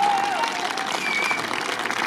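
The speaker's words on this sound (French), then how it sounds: "On applaudit encore," An audience clapping for a speaker, a dense steady patter of applause from a crowd indoors, with a voice speaking over it.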